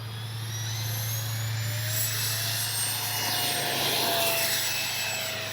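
A Freewing 80mm A-10 V2 RC jet's electric ducted fans spool up for takeoff, giving a steady, loud, rising whine with a low hum beneath and no voices.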